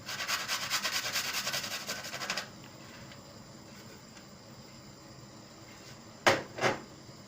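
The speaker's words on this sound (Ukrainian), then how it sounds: "Я на терочці натру." Vegetables rubbed back and forth on a hand grater produce rapid rhythmic rasping strokes for about two seconds, then quiet, with two brief knocks near the end.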